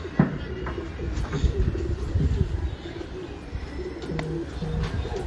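Several Sialkoti pigeons coo in low, throaty bursts against a busy background hum, with occasional faint chirps mixed in.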